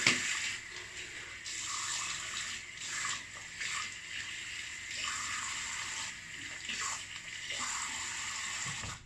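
Water running steadily from a bathroom tap while shaving soap is rinsed off after a razor pass, with a continuous splashing rush and small shifts as hands move through the stream, moderately close and no talk.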